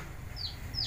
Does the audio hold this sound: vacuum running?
no